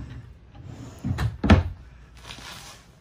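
Inside a 2021 Forest River Sabre 37FBT fifth wheel travel trailer bathroom, a drawer slides and knocks shut, a couple of close thuds over quiet room tone.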